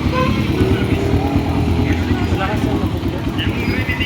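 A Kawasaki KLX 140 dirt bike with a widened exhaust idles and revs close by, a steady throaty drone with rising bursts, while a person talks over it.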